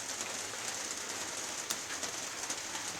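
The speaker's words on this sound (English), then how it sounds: "It's a rainy day out today." Steady rain falls outdoors on a wet day in a pepper garden, a dense, even hiss with occasional louder drops, close and continuous with no talking.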